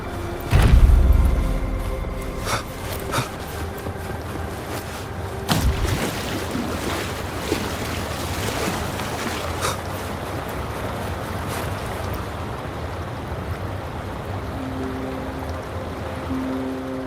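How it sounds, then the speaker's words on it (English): Water drains away as the level drops in the video game Wuthering Waves. A heavy, rushing watery surge with rumbling knocks comes first, then settles into a long, steady wash that slowly fades. "The water level just dropped again."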